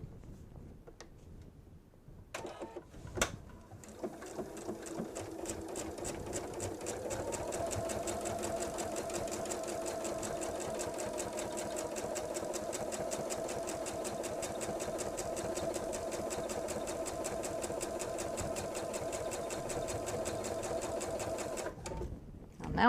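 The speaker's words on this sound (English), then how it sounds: "now I'm going to stitch 1/4 of an inch from the binding" A sewing machine stitches a quarter-inch seam beside the binding on a strip-pieced kitchen set, starting after a couple of clicks and then running as a steady, fast, even whirr for most of the stretch before stopping.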